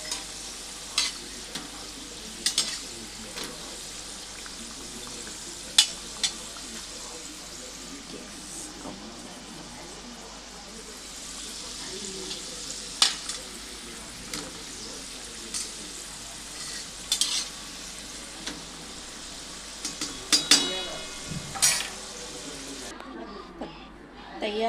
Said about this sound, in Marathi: कमी गॅसवर तळायचे आहे म्हणजे आतून छान